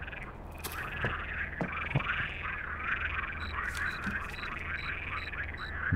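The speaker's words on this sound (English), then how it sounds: "Jesus, it's a frog." Frogs croak in steady overlapping rhythmic trills across a forest lake in The Cursed Forest horror game, fairly loud over a low ambient hum, with a few faint clicks.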